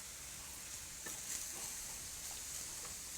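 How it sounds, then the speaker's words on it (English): Shredded cabbage and carrots fry steadily in a pan, giving a continuous soft sizzle with faint stirring clicks, heard alone without talk. "it's like almost like frying coleslaw, just without the coleslaw"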